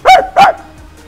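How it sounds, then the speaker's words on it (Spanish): A dog barks twice in quick succession, loud and close, two sharp separate barks followed by a quiet background hum. "Mira, mira, me está ladrando."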